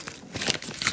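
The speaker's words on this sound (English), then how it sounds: "I'm making a tape ball. A tape tangle." Used masking tape being wadded into a ball, giving a close, continuous papery crinkling and crackling for about a second.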